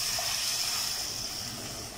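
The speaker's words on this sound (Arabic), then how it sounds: "هحط الميه بتاعتي سخنه" Hot water pours steadily onto basmati rice in a pot, a continuous close rushing splash with no pause.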